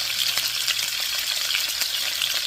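Pork pieces and apples frying in vegetable oil over medium heat, a steady close crackling sizzle with scattered sharper pops throughout, no voices.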